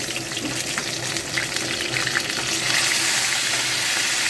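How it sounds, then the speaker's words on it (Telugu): Salted, turmeric-rubbed fish pieces for fish biryani sizzle steadily in hot oil as they are turned over, a dense, even crackle with no voices. "ఒక ఏపీ వేగిపోయినాయండి చేప ముక్కలు తిరిగేసుకుందాము"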